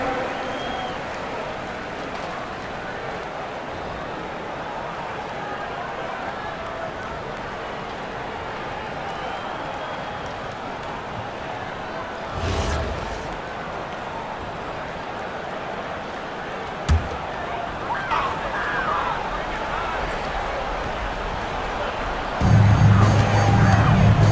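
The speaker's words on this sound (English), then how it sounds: "please give a big round of applause once again for your son, youth dance team, everybody" A video game crowd at an NBA 2K26 Knicks versus Suns basketball game cheers and applauds at a steady level throughout, with scattered whoops and a louder swell near the end.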